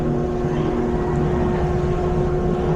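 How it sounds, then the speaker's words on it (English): A helicopter drones overhead with a steady, continuous engine and rotor rumble. The sound stays loud and unbroken throughout, with no talking. "This fucking helicopter."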